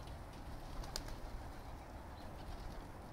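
Pigeons coo softly while feeding outdoors, and one brief flutter of wings is heard. The scene is quiet and low-level, with a steady background hum.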